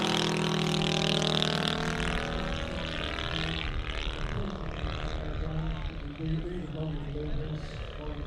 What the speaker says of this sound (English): open exhaust. It's a 4-stroke twin. There's no silencers on it at all. It's a very dead, soft sound.